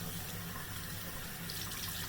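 Cold water runs steadily from a tap onto a human hair wig being wetted in a sink, a continuous close rush of flowing water with no talking.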